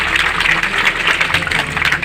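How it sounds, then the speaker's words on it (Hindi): Steady, dense applause from NCC cadets and school children at a tree-planting campaign event in Uttar Pradesh, loud and continuous without a break. "एनसीसी के बच्चों की तालियां जो हैं वो जोरदार रही हैं"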